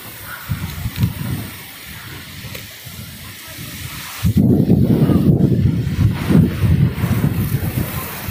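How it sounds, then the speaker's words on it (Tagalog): Wind rushes steadily across the microphone, a low rumbling buffet that grows stronger and louder partway through. "Wow, dinig na dinig ang ihip ng hangin."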